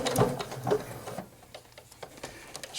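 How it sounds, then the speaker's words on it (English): A Janome 8077 sewing machine sewing a back stitch, its needle running in a quick, even mechanical chatter with a few louder thumps at the start, close and alone without talk. "when I get to the end, I'm going to do a back stitch"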